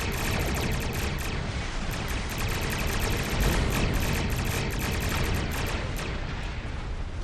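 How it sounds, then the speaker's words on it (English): Starship weapons fire in the space game Star Trek Online: dense, continuous volleys of rapid blasts and booming impacts, loud and sustained throughout with no pause and no speech. "All my weapons firing."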